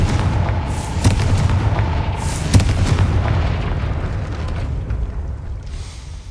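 A Confringo fire spell in Hogwarts Legacy lands as a deep booming blast with a sharp crack, then a rumbling roar that slowly fades, loud and up close without voices.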